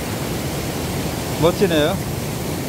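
A multi-tiered waterfall in Yumyeong valley, Gapyeong, pours as a steady broad rush, with a voice speaking briefly over it.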